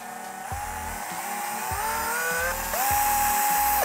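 A cordless drill whirs in short bursts, its motor pitch rising with each squeeze of the trigger until it spins at a high, steady speed.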